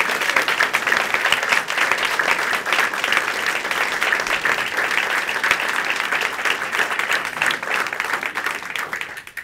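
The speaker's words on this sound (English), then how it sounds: "I want you to give them a big round of applause." A crowd claps steadily for student athletes standing at a Tennessee Tech women's basketball coaching announcement, loud, dense and unbroken for about nine seconds before tapering at the very end, with no speech over it.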